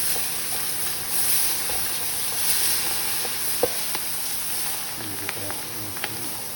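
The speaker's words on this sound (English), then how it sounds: "we're about to put in the trinity, which is the celery, the onions, and the bell pepper, and go ahead and drop it, Dave." Celery, onions and bell pepper dropped into a hot gumbo roux for a Cajun chicken sausage gumbo give a steady close sizzle and hiss, with a few sharp clinks of stirring near the end.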